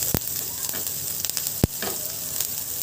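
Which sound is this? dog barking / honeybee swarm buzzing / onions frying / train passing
onions frying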